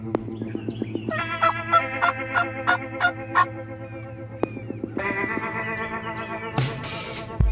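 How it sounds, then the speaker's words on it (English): A wild turkey gobbler, a big jake at a field edge, repeatedly gobbles and calls in rattling bursts, fairly close and clear, with a sharp yelping call near the end and no talk. "there's a gobbler coming"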